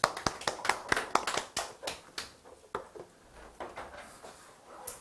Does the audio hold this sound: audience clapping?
yes